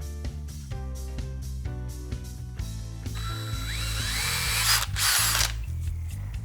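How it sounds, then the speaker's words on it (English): A power drill whirs at steady pitch, then rises into a harsher, louder grinding as the bit bites through a car number plate into wood beneath, before winding down. "Now I'm going to drill the holes that I've marked."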